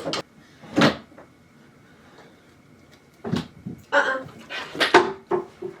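A dresser drawer pulled open by a dog in a home, giving a few sharp wooden knocks and slides, some near and loud, with scattered clatter between quieter pauses.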